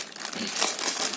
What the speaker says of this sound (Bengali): সয়াবিনগুলো কেটে প্যাকেটগুলো কেটে